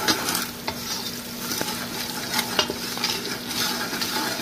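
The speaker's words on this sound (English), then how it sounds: "So now I'm going to stir all of these seasonings together." Seasonings for jollof rice get stirred in a pot with a soft sizzle, a spoon scraping and tapping against the metal in an irregular rhythm. The sound is close and quiet, with no talking.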